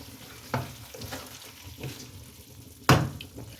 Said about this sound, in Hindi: दस मिनट के बाद इसे मिक्स कर लें।